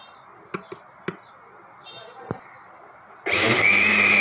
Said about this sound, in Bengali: তারপরে আবার এক মিনিট ব্লেন্ড করে নিয়েছি